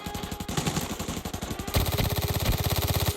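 Rapid automatic gunfire in the game Arena Breakout, with a P90 in use, rattling off as a fast string of close, loud shots that grow heavier and more regular in the second half, with no talk over it.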